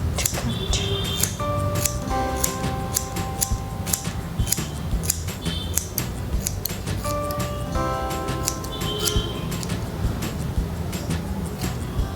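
Scissors snip repeatedly through hair while side-swept bangs are trimmed, a close, crisp series of small metallic clicks and shearing snips scattered across the whole stretch with no talking.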